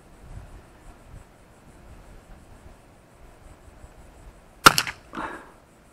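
A single sharp crack from a Remington Targetmaster Model 510 .22 caliber bolt-action rifle fired at a target, one short shot near the end after quiet, followed by a brief secondary noise.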